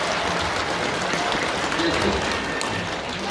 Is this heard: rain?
no